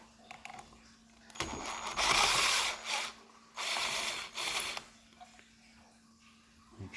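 Tools work loose the factory headlight on a SurRon electric bike, giving bursts of ratcheting clicks and metallic rattles separated by quieter pauses with a low electrical hum underneath, close and moderately loud.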